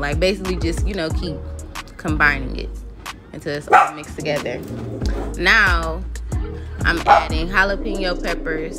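A pet dog barks repeatedly in a home kitchen while someone cooks, the sharp yaps coming in irregular bursts and overlapping with steady talking close to the microphone.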